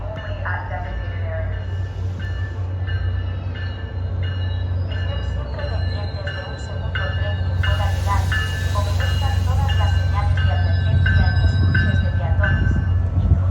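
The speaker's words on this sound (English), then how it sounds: "P32118 is departing the Winter Park Station." Train P32118 departs Winter Park Station, a loud continuous rumble of wheels and engine with clanking and faint squealing tones, building slightly louder toward the end as it pulls away, with talk over it.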